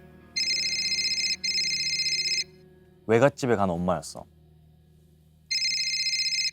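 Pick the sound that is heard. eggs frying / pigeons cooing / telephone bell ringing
telephone bell ringing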